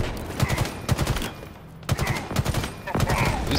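Rapid bursts of gunfire in Halo Infinite as headshots are taken: loud clustered volleys of shots, repeating in short runs with brief pauses between.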